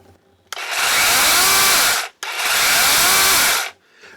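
A new DeWalt battery-powered chainsaw whirs up twice in quick succession, each loud, close burst running about a second and a half at steady speed before spinning down, with no speech.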